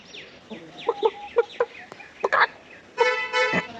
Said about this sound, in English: That's where the roosters are.